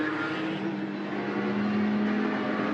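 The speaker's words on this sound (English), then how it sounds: "And the sound of the engines, quite spectacular, Sergio." Steady, droning engine roar with a sustained tonal whine, loud and continuous, from race cars running together on the track at Goiania behind a safety car before the start.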